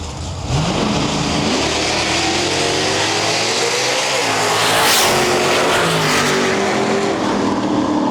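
Drag race cars, a Chevelle and a Mustang, launch from the line with a loud, sustained roar of racing engines revving and accelerating hard, close and dense throughout.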